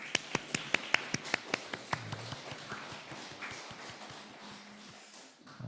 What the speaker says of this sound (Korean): 우리 옆에 있는 분들을 향해서 축하와 축복의 박수 드렸으면 좋겠습니다